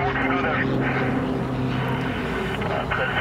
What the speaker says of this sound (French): L'avion il vole très bas, c'est un gros porteur qui transporte pas mal de matériel.